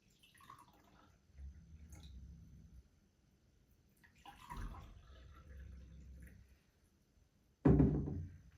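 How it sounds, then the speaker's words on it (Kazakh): Water is poured into two containers for a salt-water floating experiment, heard as quiet splashing and trickling in separate bursts, with a louder splash near the end. "біз екі ыдысқа да су құйып шығамыз"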